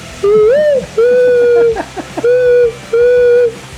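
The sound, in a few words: man imitating an owl call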